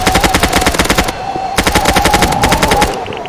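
Rapid automatic gunfire from the Roblox game Mad City rattles in loud, dense bursts with a brief pause after about a second, close and continuous, with no talking.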